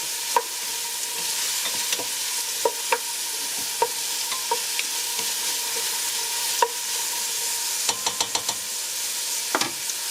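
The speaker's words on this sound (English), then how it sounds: "I'm gonna let this saute for about 2 to 3 minutes" Smoked sausage sautés in a pan, a steady close sizzle with a broadband hiss, broken by scattered clicks and clinks of stirring utensil against the pan over about ten seconds.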